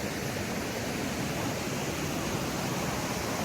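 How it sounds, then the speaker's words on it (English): Running water of a stream along the Appalachian Trail near Zealand Falls, a steady, dense, hissing rush with no breaks, close and moderately loud with no voices. "Lots of water running."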